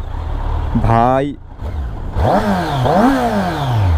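A 2023 Kawasaki Z900 on its stock exhaust revs close by in sharp, rising bursts that fall back between blips. Someone speaks briefly over the engine.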